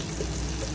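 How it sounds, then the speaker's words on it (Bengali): A little water poured into a cooking pan while making a rohu fish and ridge gourd curry, a steady close wash of pouring and sizzle filling the short moment alone. "थोड़ा सा पानी डालेगा"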